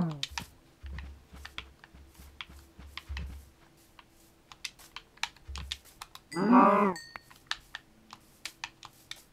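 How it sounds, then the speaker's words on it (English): A Minecraft cow on the New Nintendo 3DS gives one loud, drawn-out moo partway through, set against soft, steady clicking and tapping. "Cow."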